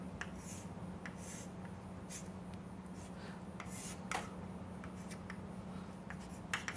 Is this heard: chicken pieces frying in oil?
no